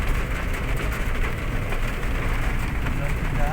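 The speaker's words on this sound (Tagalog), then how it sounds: "nag-iintay ng pagtigil ng ulan" Steady rain pours down on a roadside near shops, a dense continuous hiss that stays loud throughout, with faint traffic rumble underneath.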